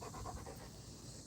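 A dog lying in a cool spot pants quickly and rhythmically close by, a soft, steady breathy huffing with no voices.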